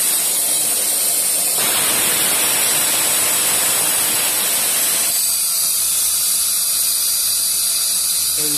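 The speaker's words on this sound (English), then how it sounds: "Air is coming out. From here you should drain." Compressed air and moisture blast from the open drain valve of an SCBA bottle-filling compressor aboard a ship, a loud, harsh, continuous hiss that swells stronger partway through and then settles to a steadier roar.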